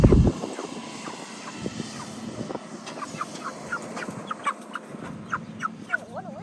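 Farm poultry raised for meat call from the middle distance on a Wisconsin farm, with a run of short, repeated chirps and clucks over a steady outdoor background.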